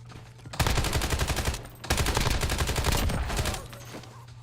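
Rapid automatic gunfire in a video game, two sustained loud bursts of closely spaced shots separated by a short pause, ringing out close and alone.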